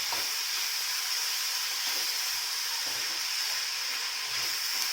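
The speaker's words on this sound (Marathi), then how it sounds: "कांदा लवकर भाजायला एक थोडंसं मीठ ह्याच्यामुळे काय होतं आपला कांदा लवकर भाजतो" Onion frying with a little salt in oil in a pan, giving a steady, close sizzle and hiss that holds at an even level throughout, with no talking.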